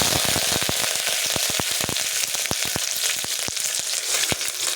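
Fenugreek seeds and curry leaves frying in hot oil, a loud close sizzle with rapid sharp pops and crackles throughout, no talk.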